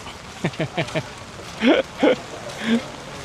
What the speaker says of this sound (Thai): อุ้ยฝนตกคำ